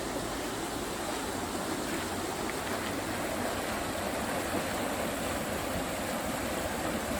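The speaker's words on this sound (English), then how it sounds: "this is a beautiful day, gorgeous spot on the river" A river in an urban area flows past with a continuous, even rushing wash of water. It stays steady throughout, with no voices.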